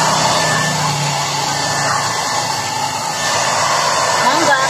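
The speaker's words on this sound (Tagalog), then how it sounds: "magiging blower na namin siya, ayan. Para matuyo siya." A blower runs continuously with a loud, steady rushing roar while a Shih Tzu dog is dried after a bath. A faint voice is heard beneath it.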